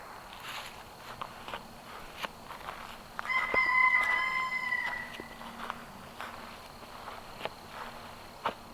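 Backyard chickens clucking softly while a rooster lets out one clear crow in the middle, with scattered footsteps and rustling close by and no speech.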